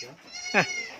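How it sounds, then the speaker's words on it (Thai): A single short goat bleat, close and wavering, rising out of a quiet background hum. "แพะน้อย"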